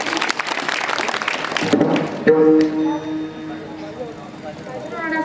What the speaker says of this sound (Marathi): जोरदार टाळ्या बाबांसाठी.